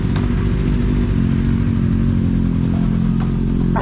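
A Yamaha MT-03 motorcycle engine while riding, a continuous loud close drone with slight clatter and wind, no talk.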